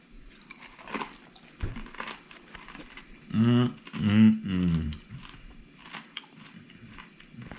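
Crunchy bacon being chewed at breakfast, alongside over-medium eggs and decaf coffee, with a few loud close crunching bites in a row between quieter moments.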